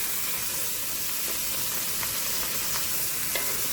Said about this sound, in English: I got them skin side down searing, and then I'll flip them over and sear them on this side as well